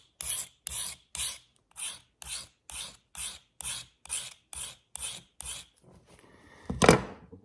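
A blade edge is sharpened by hand with about a dozen evenly spaced, close rasping strokes, then a quiet pause and one louder scraping swipe at the end.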